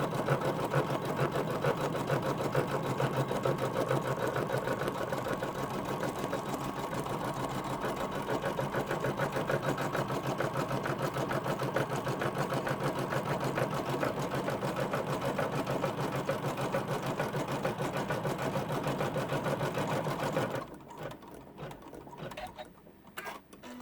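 An embroidery machine stitches a layered notebook cover in the hoop, a fast, steady mechanical rattle running close and continuously for about twenty seconds before breaking off into quieter, sparse clicks and shuffling.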